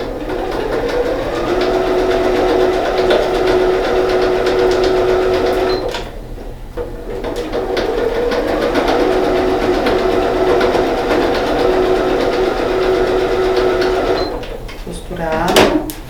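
Sewing machine stitching the edges of a fabric bag or pouch with bias binding, running steadily in two long bursts with a short pause between, close and loud.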